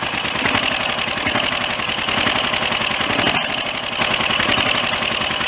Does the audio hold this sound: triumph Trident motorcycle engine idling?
yes